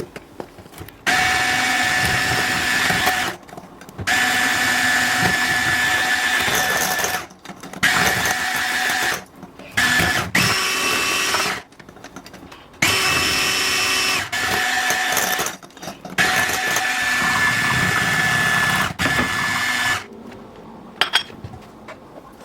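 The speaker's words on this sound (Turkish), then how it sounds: "Tüm malzemeyi homojen olana kadar karıştıralım." An electric mixer whirs through cake batter made with flour, vanilla and baking powder, running in long steady bursts with short pauses between them, loud and close, with no talking.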